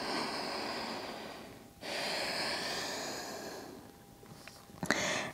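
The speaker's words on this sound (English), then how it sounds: "1 more deep inhale and exhale" Slow, deep yoga breath, a long steady inhale followed by a long exhale, close and fairly soft, with a brief sharper breath sound near the end.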